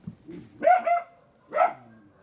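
A dog barks outdoors near a street, giving two or three moderately loud barks with a short gap between them.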